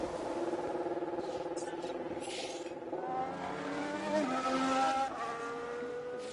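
Formula 1 cars heading out for qualifying at Las Vegas in F1 Manager 23, a layered, whining engine drone whose pitch glides and shifts as several cars pull away, steady and moderately loud.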